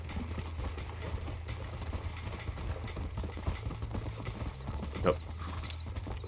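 Horse hooves clip-clopping in the video game Red Dead Redemption, a steady rhythmic clatter of hoofbeats under low ambient game noise, with a brief spoken word from a player.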